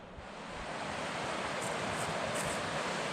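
River rapids rush beside a riverside campsite on the Brightsand-Kopka River, a steady broadband roar of churning water that swells slightly in the first second and then holds constant. Faint high chirps come through the rush.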